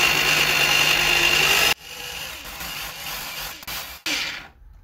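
An 8 mm drill bit drilling into plastic, a loud continuous power-drill whine that cuts off abruptly, followed by quieter scraping and brief bursts of grinding as the bit works the hole, with no talking.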